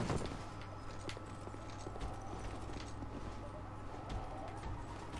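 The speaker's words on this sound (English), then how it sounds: "You can hear him stamping about." A heavy creature stamps about in the Dark Souls 2 DLC Crown of the Sunken King, its repeated thudding footfalls sounding over a steady rumbling game ambience.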